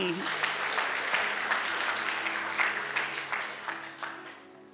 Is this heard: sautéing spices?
no